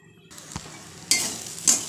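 Vegetable bhaji with chili stirred in a pan, giving a quiet sizzle broken by three sharp scraping stirs, the last two louder and brighter, with no talk.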